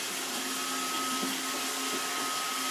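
Roomba robot vacuum cleaner running close by, a continuous whirring motor hum with a faint steady whine and a few small bumps and rattles, no voices.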